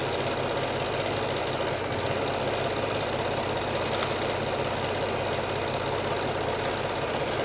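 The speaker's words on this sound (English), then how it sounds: "And then we're sewing down the sleeve." A sewing machine runs steadily while stitching the sleeve seam of a cashmere Stanton hoodie, giving a continuous dense mechanical whir with a rapid regular pulse, close and fairly loud, with no talking.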